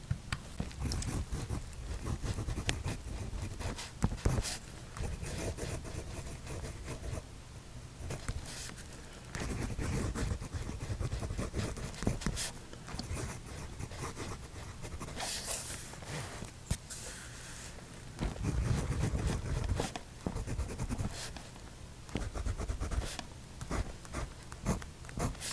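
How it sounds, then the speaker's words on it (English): An Artisan carbon ebonite fountain pen nib scratches and glides across paper close to the microphone, a soft continuous scratching broken by short strokes and pauses, with no speech. "There's my microphone here on a foam pad to catch the sounds of the nib."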